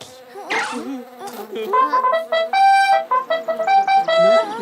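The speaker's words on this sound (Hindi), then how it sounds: "मधुमक्खी, ये कहाँ से आ गई?" A bee in a Hindi cartoon about pandas buzzes loudly and close, its whining drone wavering in pitch and pulsing in short bursts, with no talk over it.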